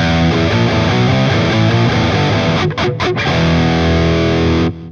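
Heavily distorted electric guitar in a riff, played as the tab transcribes it: a loud, dense chugging stream of palm-muted notes with a couple of brief choked gaps near the end, with no talking.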